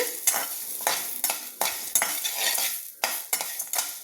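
Whole spices and poppy seeds roast in a dry pan for a fish curry, the spatula scraping and stirring in quick repeated strokes over a light sizzle, close and clear, with no speech.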